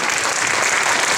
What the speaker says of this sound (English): Go ahead, clap.